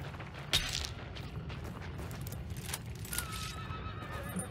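In the video game Hunt: Showdown, a horse gives a sharp whinny near the start over a low, continuous ambient rumble, followed by faint scattered clatter.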